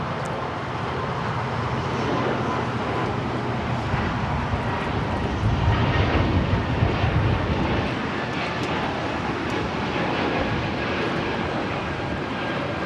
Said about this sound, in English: That was Air Canada 776 taking off to Montreal on the A220-300.